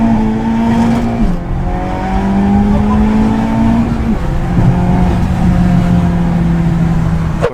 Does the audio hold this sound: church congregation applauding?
no